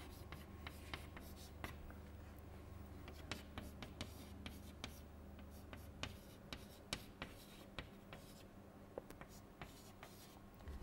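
Chalk or pen strikes and scratches on a board as a lecturer writes out a shock-speed formula, giving a run of quick, irregular taps and short strokes with brief pauses and a low room hum underneath.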